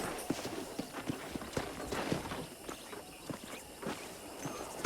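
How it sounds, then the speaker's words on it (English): Horse hooves clip-clopping at a walking pace while a horse is ridden around a ranch in the video game Red Dead Redemption. The hoofbeats are quiet, steady and evenly spaced, with soft background ambience. "let's see if you can still ride a horse."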